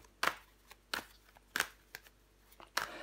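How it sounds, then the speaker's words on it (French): Tarot cards handled and flipped over one at a time, giving about five crisp, close card snaps spaced roughly half a second apart, with soft rustling between them and no voices. "Je vais recouvrir des cartes"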